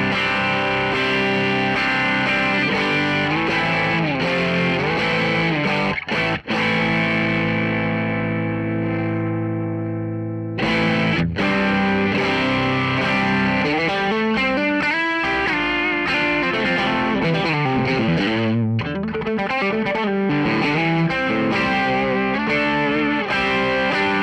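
Electric guitar played through a TC Electronic Dark Matter overdrive pedal, heard alone as sustained, driven chords that ring out and fade, then a busier run of overdriven strumming, loud and close throughout.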